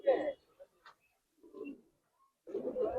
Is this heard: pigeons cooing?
yes